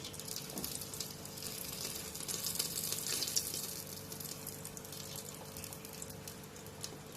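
A bay leaf hits hot oil for a Gujarati tempering, giving a steady close hiss and crackle that swells slightly then holds, with no voices.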